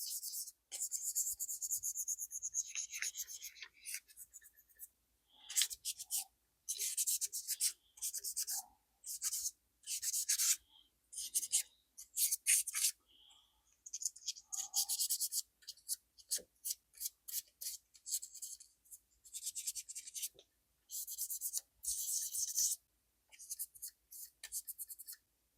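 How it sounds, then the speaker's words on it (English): Automotive wet sanding on a part of a 92-year-old Walther RKZ mechanical calculator: repeated close, hissy rubbing strokes in rhythmic bursts, separated by short silent pauses, with no talking. "Automotive wet sand."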